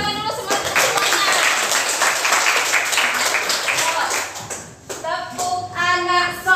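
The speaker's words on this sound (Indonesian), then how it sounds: "Semangat dulu, tepuk tangan dulu, semangat semuanya" Children at an Islamic private elementary school in Kisaran Barat clap their hands together in a dense, steady burst for about four seconds during an ice-breaking session, then singing voices follow.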